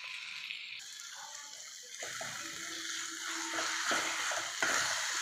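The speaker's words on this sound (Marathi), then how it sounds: "थोडीशी हळद घालून परतून घेऊया पुन्हा" Eggplant bharit with turmeric is stirred and sautéed in a pan, giving a steady soft hiss and sizzle with occasional scraping and clinks of a spoon, close and continuous.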